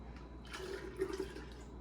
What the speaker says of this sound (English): Now, ladle this into a couple of quart jars here.